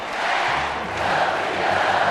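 Thousands of fans in Rio's Maracanãzinho arena sing and cheer for Brazil's volleyball gold at the 2007 Pan American Games, a dense steady wash of chanting voices filling the hall.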